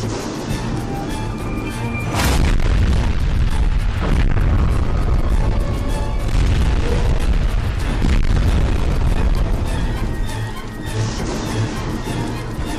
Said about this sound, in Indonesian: Mobil nabrak pohon gitu doang, ledakannya udah kayak abis kena tembakan rudal.